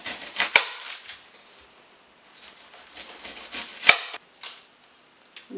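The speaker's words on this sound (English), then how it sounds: "the first thing we're going to do is chop our onion" Knife chopping through an onion on a cutting board: close, crisp bursts of cuts, some clustered and some single sharp strokes, with short pauses between them and no talk.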